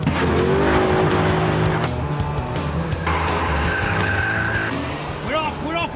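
A 500 horsepower Mustang launches in a drag race, engine roaring loud and close as its tires squeal and skid, pitch climbing through gears, while someone talks over it.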